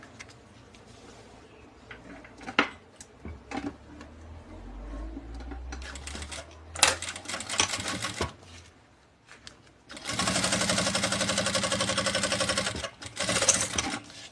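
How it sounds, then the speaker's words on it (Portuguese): A sewing machine stitches a zipper onto synthetic fabric with polyamide thread, starting with short stops and bursts, then running in a loud, close, steady mechanical whir before a final short burst. "vou virar essa parte aqui do meu zíper assim e vou passar uma costura pra prender aqui"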